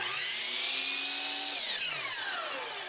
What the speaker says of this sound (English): I cut a 45-degree miter on the end of one molding section